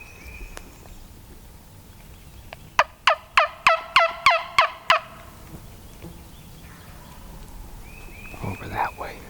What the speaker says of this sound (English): I just heard one gobble out there